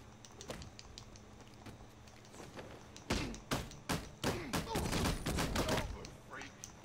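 A burst of gunshots in Batman: Arkham Knight, with sharp cracks scattered at first, then a dense volley of loud, close shots before it thins out again.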